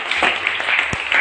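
Congregation clapping for Jesus at a church gathering, a brief burst of dense applause heard close and fairly loud.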